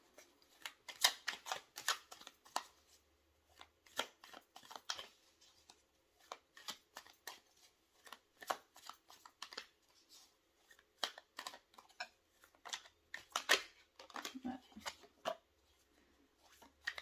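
Tarot cards being shuffled for a draw, heard up close as soft, irregular riffles, flicks and taps that come in clusters with short pauses, quiet and with no talking.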